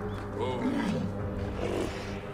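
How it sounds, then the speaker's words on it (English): A hippo roars in Assassin's Creed Origins, a low, rough, sustained growl lasting a couple of seconds at steady loudness over game ambience. "I hear a lion or something. Oh god, it's a hippo"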